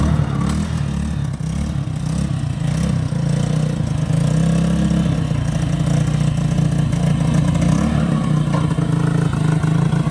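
A homemade tractor powered by a bike engine runs steadily nearby, with a loud continuous low chugging and a rattling clatter, and no talk over it.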